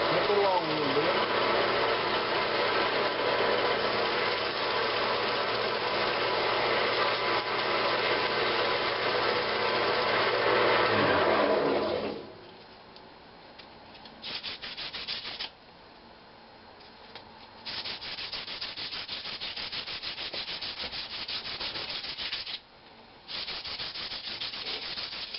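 Sandpaper of 220 grit rubs against a pecan wood vase spinning on a lathe, a loud, steady abrasive hiss over the motor hum that stops about halfway through, leaving a quieter, uneven background.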